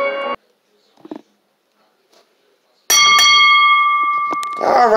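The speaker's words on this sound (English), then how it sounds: "The bell ring and the match starts right now." A wrestling ring bell rings to start the match, a loud bright metallic clang struck a couple of times with a ringing tail, after a brief quiet stretch with faint sounds.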